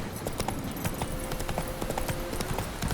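Roach, Geralt's horse in The Witcher 3: Wild Hunt on PlayStation 5, trotting with a quick, even clip-clop of hooves on a hard surface, steady and close, with no talk over it.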